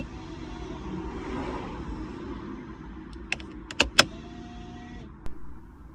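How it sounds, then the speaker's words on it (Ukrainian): A car's electric parking brake caliper motor buzzes in a steady, moderate whine for several seconds, and a few sharp metallic clicks and taps follow near the end. "Блок, як мінімум, жужжить нормально."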